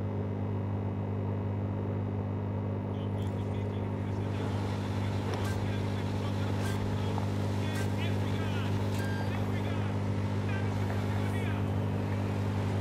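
A tractor engine in the racing game Dirt 5 drones with a steady, loud, low mechanical hum that holds throughout, with a few faint clicks and knocks on top.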